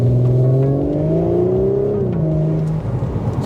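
A 2022 Audi S4 accelerates hard, its engine note climbing steadily through the revs, close and prominent, then easing off near the end.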